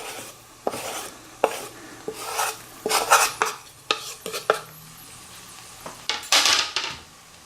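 Herbs stirred into melted butter in a pan, a spoon scraping and clinking against the metal in irregular bursts over a faint sizzle, with no talking.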